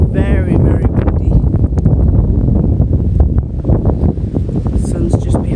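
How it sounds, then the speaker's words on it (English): Strong wind buffets the microphone in loud, continuous gusts, roaring and rumbling up close, with a voice faintly underneath. "Very, very windy."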